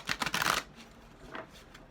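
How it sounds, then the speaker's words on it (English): A deck of oracle cards being shuffled by hand, a close rapid riffle of flicking cards followed by a quieter second short shuffle. "Sorry I'm having to shuffle so much, but sometimes I have to pull another deck"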